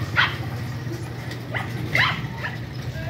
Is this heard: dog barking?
yes